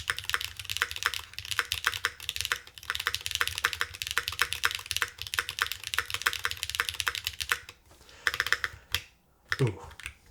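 Steady, fast typing on a retro-inspired mechanical keyboard fitted with good keycaps, resting on a desk pad; dense clacky keystrokes run nearly continuously, then thin out into a few scattered presses near the end.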